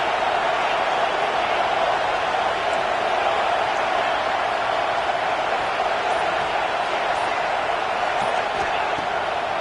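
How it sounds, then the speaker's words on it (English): Alabama football stadium crowd roaring on third down, a dense, steady wall of massed cheering and noise lasting the whole stretch, loud and unbroken with no individual voices standing out. "The Tide crowd rolling noise down onto Saban Field on 3rd down."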